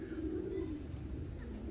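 Pigeons coo softly in a pigeon loft in Hamburg, Germany, low throaty calls rising and fading against a steady background hum, faint and close with no talk.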